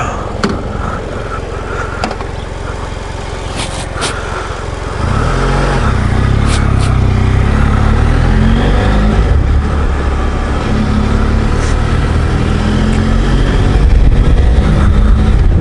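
A BMW F700GS motorcycle, fitted with a radiator guard, rides along with a steady engine drone that swells louder partway through and keeps up a continuous rumble with wind noise.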